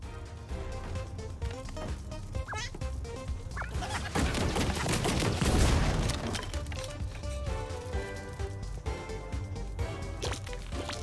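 Dense, noisy blasts from the video game Tinykin build into a loud, booming explosion midway, surrounded by crackling impacts and clattering effects.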